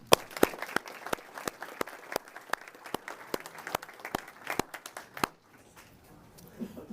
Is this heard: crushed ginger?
no